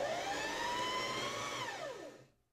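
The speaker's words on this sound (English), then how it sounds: "we can put our foot down and continue winding the bobbin until it reaches the edge of the stopper" Sewing machine winding a bobbin, a steady whirring hum that holds pitch for about two seconds, then slows and falls in pitch as the motor winds down and stops, close and loud with no talking.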